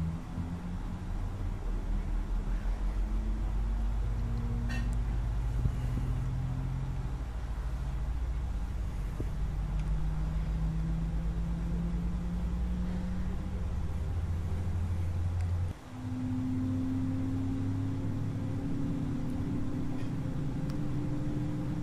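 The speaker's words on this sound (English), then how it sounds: "Starting engine 2." Airbus A320 engine 2 spooling up in Flight Simulator X, a steady low droning hum with rising tonal whines that climb in pitch, a brief dip near the end before the tone steps up again, continuous and fairly loud.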